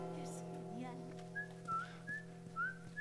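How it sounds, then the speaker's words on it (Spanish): A character whistles a few short rising and falling notes in the video game The Last of Us, the tune standing clearly over a steady hum of game ambience. "Estoy silbando"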